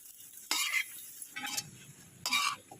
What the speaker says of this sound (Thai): คั่วเห็ดต่อครับ คั่วให้สุก